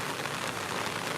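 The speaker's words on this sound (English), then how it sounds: "Looks like it's raining in the Philippines." Rain falling in the Philippines, a dense, even hiss of rain on surfaces that stays steady throughout the short stretch, with no voices.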